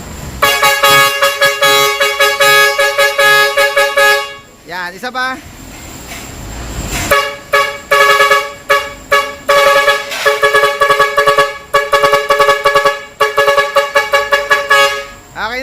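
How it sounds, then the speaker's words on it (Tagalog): A dual trumpet air horn driven by an eight-tune horn module plays loud, sustained melodic phrases, breaks briefly around four seconds, then resumes with repeated tune blasts, while someone talks briefly. "yung horn module mga kabisyo, yung 8 tunes natin na Kabisyo Express"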